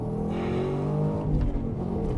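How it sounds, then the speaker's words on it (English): 2013 Chevrolet Camaro SS 1LE accelerating hard down a track straight, a loud steady engine roar with rising pitch, heard from inside the car. "All right, here we are going down the straight."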